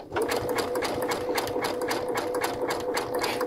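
A Brother sewing machine satin stitches an applique on a quilt block, its needle hammering in a fast, even mechanical rhythm, close and loud, running alone without a break.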